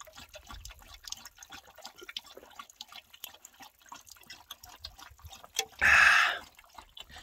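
Water poured for a drink outdoors on a hot afternoon, with faint scattered drips and ticks followed by one short, louder splashing pour near the end.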